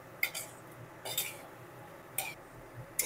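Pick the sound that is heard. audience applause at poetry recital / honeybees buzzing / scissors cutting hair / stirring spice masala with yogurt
stirring spice masala with yogurt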